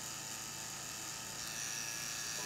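A tattoo machine fitted with a mag needle buzzes continuously while packing color, a steady close electric whir with no talking.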